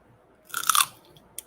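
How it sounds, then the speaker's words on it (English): Ants on a log, celery topped with peanut butter, gets chewed close to the mic: a quick burst of wet, crisp crunching bites that fades, then one last small crunch. "Like you guys want to hear me chew"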